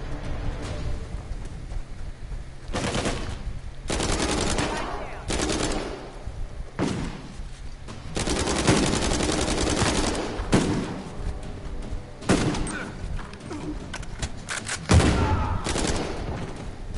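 Repeated bursts of gunfire in the Uncharted 4 video game, loud and close, arriving in irregular volleys with short gaps between them, with a voice speaking now and then under the shooting.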